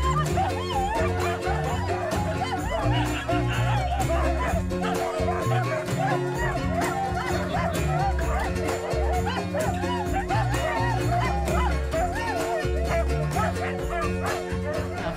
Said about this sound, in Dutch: Zie hier 2 huskies